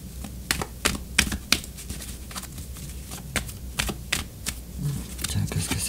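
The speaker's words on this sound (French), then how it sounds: "Je continue de brasser les cartes encore un peu." Tarot cards being shuffled by hand, a series of sharp, close riffling snaps at an irregular rhythm, with a low background murmur.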